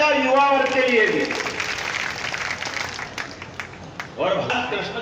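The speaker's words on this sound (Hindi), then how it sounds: "तो जोरदार ताली बजाओ युवा वर्ग के लिए भी।" An audience claps at a political rally in Chhatarpur addressed by the Chief Minister, a few seconds of broad, steady applause between stretches of someone speaking into a microphone.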